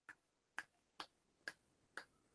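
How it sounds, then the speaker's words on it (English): Five sharp finger snaps, evenly spaced about half a second apart, close and crisp against near silence, made as a sound check. "snap your fingers for a sound check"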